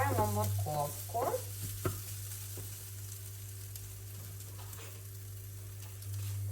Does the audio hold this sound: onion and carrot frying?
yes